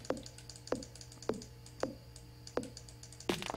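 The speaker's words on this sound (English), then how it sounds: "You guys hear me just clicking away?" Computer keyboard or mouse clicking while playing Stardew Valley, six quiet separate clicks spaced roughly evenly, close and faint with no talk.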